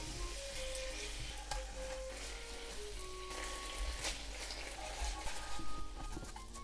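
Chicken meatballs sizzling in a pan with sugar, soy sauce and sake sauce for tsukune, a soft, continuous bubbling fry with occasional scraping as the sauce is coated around, no voices.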